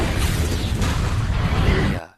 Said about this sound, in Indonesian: Ledakan tersebut yang membuat tangan Kim sedikit berdarah